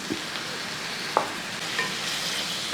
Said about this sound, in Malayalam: ഇനി ഒന്നുകൂടെ ഒന്ന് നമുക്ക് ഇളക്കി നല്ലപോലെ ഒന്ന് ഇളക്കിയെടുക്കുക